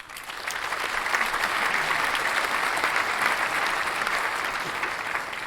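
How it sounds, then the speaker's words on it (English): A round of applause from a live audience at a whiskey podcast, dense steady clapping rising quickly and holding at a moderate level for several seconds, with no talking over it. "So have a round of applause."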